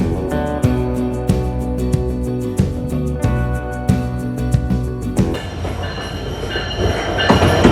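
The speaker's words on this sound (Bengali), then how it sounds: "ঢাকা থেকে ছেড়ে আসা নীলসাগর এক্সপ্রেস ট্রেনটি হিল স্টেশনে স্টে করতেছে।" The Nilsagar Express passes through Hili station with a rhythmic clickety-clack of wheels over rail joints and a heavy rumble, giving way to a broader rolling roar near the end.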